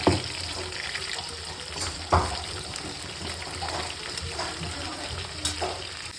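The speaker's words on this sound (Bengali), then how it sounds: "চিকেন পকোড়া হচ্ছে ভাজা এখন" Chicken pakoras fry in hot oil in a home kitchen, giving a steady sizzle with a few sharp clatters and splashes from stirring. The sound is fairly close and no one talks over it.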